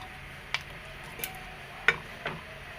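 A spoon stirs watery chicken curry in a pan, giving a few sharp, separate scrapes and clinks against the metal over a low, soft simmering hiss, close by and fairly quiet, with no voices.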